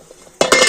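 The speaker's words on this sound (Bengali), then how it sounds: "আর এবার আমি পিঠের থালাটা নিয়ে স্ট্যান্ডের উপর বসিয়ে দেব।" A metal plate of pithe set down on a steaming stand inside a kadai, giving a sudden metallic clank and short ringing clatter after a quiet lead-in.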